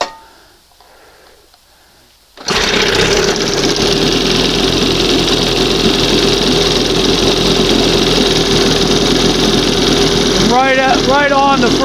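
A 1971 Johnson 20 hp outboard motor kicks on after a quiet start and runs at a steady, buzzing idle close by, with a few brief squeaky sounds near the end.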